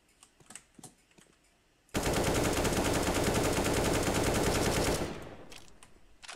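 An AK-47 sprays a long uncontrolled automatic burst in the video game CS:GO, a dense rapid-fire stream of loud shots lasting about three seconds after a few scattered light clicks, then cutting off into a fading tail.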